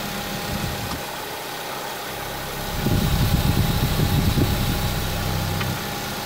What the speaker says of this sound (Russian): Движок работает отлично.